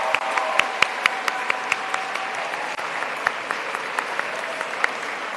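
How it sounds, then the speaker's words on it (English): At a school graduation ceremony, the audience claps for standing students as a loose patter of individual, distinct hand claps at moderate volume, spread unevenly and not building into a roar. "Please give them a big round of applause"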